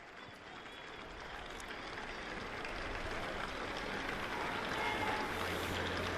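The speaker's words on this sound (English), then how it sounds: "thoroughly deserved the round of applause from the spectators this evening" Spectators applauding at an amateur football cup final in the evening, a steady, dense wash of clapping that holds throughout and swells slightly toward the end, heard from a little distance.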